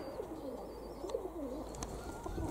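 Young racing pigeons coo softly and repeatedly near a loft, a low warbling murmur with faint chirps over quiet outdoor background.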